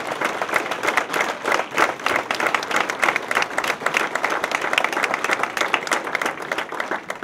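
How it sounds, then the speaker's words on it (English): Sustained applause from a large audience at a hall of fame induction ceremony, dense clapping that keeps a steady intensity throughout. "let's give them all a big round of applause."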